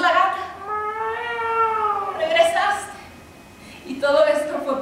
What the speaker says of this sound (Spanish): ¡Es la gata!